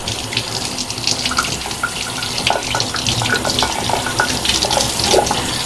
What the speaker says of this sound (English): that just rinses off really nice under the hot water